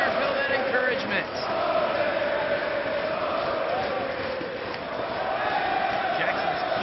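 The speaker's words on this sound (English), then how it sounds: "this crowd chanting Ole, giving El Generico that encouragement" Wrestling crowd at a Ring of Honor-style tag team match chanting Ole for El Generico, a steady, dense roar of many voices filling the whole stretch, with commentary talk layered over it.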